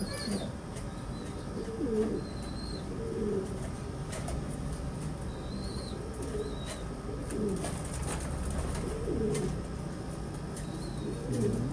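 Homing pigeons coo in soft, repeated low phrases inside a loft, with occasional wing flutters and faint background noise, and a few quiet voices in between.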